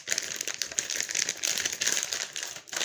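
HIV self-test kit being wrapped in aluminum foil, a steady close crinkling and crackling of the foil that runs almost unbroken for about three seconds, with no talk.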